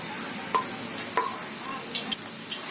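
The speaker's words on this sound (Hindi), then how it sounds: "पोहे को हम चम्मच से इस तरह खोल लेंगे" A spoon stirs and breaks up poha in a frying pan with fried aloo and onion, giving a soft continuous sizzle broken by a few sharp scraping clicks against the pan.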